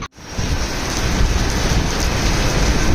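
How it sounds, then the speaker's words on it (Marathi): Dense, steady downpour roaring right up close, a continuous hiss of heavy rain with no voices. "आज कसला खान पाऊस आला"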